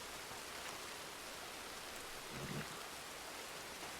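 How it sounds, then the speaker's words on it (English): Rain falls steadily outdoors, a dense, even wash of hiss with no distinct drops, moderately loud and continuous, alone without any talking. "it's really wet and raining"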